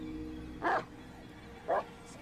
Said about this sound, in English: He's barking at something, that's for sure.